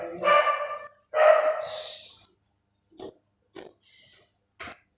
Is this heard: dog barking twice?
yes